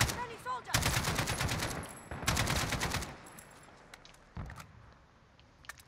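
Machine gun fire in the Call of Duty Modern Warfare campaign: two loud sustained bursts of rapid shots, each about a second and a half long, followed by a shorter single burst, with faint game ambience between.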